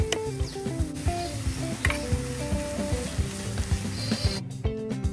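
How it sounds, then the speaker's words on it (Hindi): A ladle presses and mashes bathua stuffing with garlic and chili in a hot pan, giving a constant sizzle broken by rhythmic knocks and scrapes of metal on the pan, close and alone without speech. "इसको करछुल की मदद से थोड़ा प्रेस कर देते हैं या मैश कर देते हैं।"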